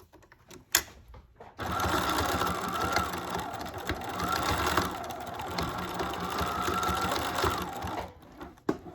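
A sewing machine stitching down elastic on a fabric headband, running in one continuous close mechanical whir for several seconds after a few handling clicks, then stopping with a final click, with no talking.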